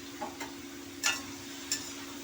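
Ridge gourd with turmeric is stirred in a pan: a few soft, quiet scrapes and clinks of a spoon over a faint, steady sizzle, with two brighter clicks standing out.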